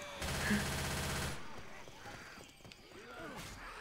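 Gunfire in Left 4 Dead 2, a rapid burst of automatic shots up front that cuts off, followed by quieter game noise and faint voices.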